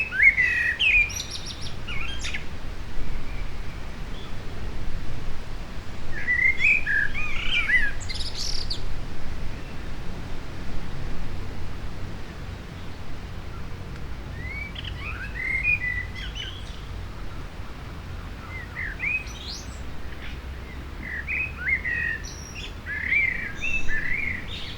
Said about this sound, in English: you still could hear very clearly the voices of birds singing with all its natural timbre and